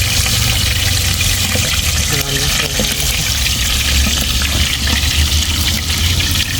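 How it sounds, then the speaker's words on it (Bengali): Pieces of roast frying in a pan while food is cooked for a wedding anniversary gathering, giving a loud, steady hiss that runs unbroken from start to finish with faint sounds of people in the background. "এই যে এখানে রোস্টগুলো ভেজে নিচ্ছে"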